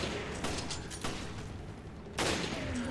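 Rifle shots in the survival horror game Resident Evil Village, a few sharp broadband bangs spaced a second or more apart, the last and loudest near the end, over a dense game soundscape.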